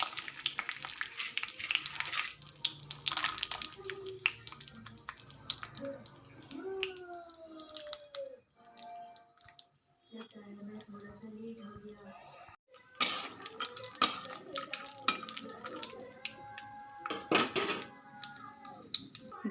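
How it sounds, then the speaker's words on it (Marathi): Dry fruits frying in a mix of oil and ghee for rice kheer, with intermittent soft sizzling, clinks of a utensil against the pan and scattered stirring, plus brief speech and tonal background sounds. "तेला तुपामध्ये फ्राय करून घेणार आहे हे बघा ड्रायफ्रूट पहिले टाकणार आहे सगळे"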